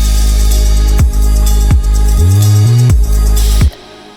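Two layered neurofunk drum and bass synth bass patches left without processing, loud heavy low bass notes with sharp pitch drops and a gliding wobbling mid section, dense and distorted with no voices.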